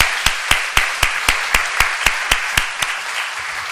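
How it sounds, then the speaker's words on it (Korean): A church congregation claps in encouragement after a choir's hymns, with loud, evenly spaced rhythmic claps in unison over a softer spread of scattered clapping. "우리 격려의 박수 하겠습니다."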